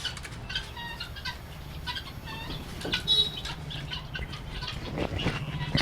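Laying hens on a chicken farm, six to seven months old and just starting to lay, cluck and squawk continuously with bursts of wing flapping, a close, busy flock with no talk.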